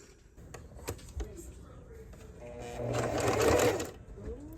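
A home sewing machine stitches a zipper pouch in short bursts, its motor whirring louder toward the end, with quiet clicks and handling noises between runs and no talk.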